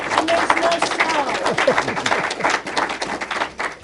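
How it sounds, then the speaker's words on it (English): A library audience at a Delta blues program applauds: dense, brisk clapping fills the room at close range, with voices chattering and calling out through it. "So give a round of applause."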